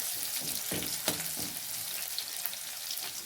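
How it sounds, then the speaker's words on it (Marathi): Sliced green chillies frying in a spoonful of oil in a kadhai, a steady hissing sizzle with a few stirring scrapes and small clatters, close and moderately quiet, with no talk. "ते 8 मिरच्याचे स्लाइस आपण कापून घेतलेले आहे ते कढईमध्ये टाकत आहोत."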